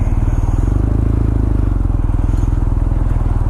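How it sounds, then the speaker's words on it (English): BMW R nineT motorcycle engine idling or running up close, a loud, steady rapid pulsing thrum with no pauses throughout. "These K2X motors, they're just so full of attitude."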